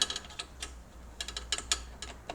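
Bolt nipped up on the starter motor cover of a Suzuki DR650, giving a few quick close clicks and ticks in irregular bursts over a faint steady hum.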